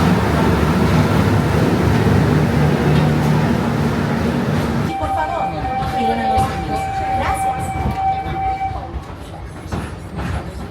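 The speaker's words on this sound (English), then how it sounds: "this will be our final train leaving Harambe Station for the night." A Disney Animal Kingdom train pulls out of Harambe Station at night with a broad rumble for about five seconds. Quieter ambience follows with a steady whistle-like tone, and faint voices sit in the background.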